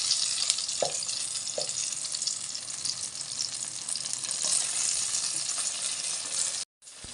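Eggplant frying in a pan, a steady bright sizzle of hot oil close by, with a couple of soft clinks from turning the pieces and a brief cut near the end.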